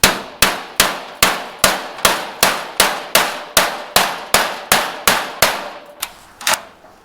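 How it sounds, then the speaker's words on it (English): A hammer strikes a bent metal corner to straighten it, about fifteen sharp, ringing clangs in a steady even rhythm, loud and close, with the last few blows more spaced out. "hit this area here with a hammer, straighten it back out"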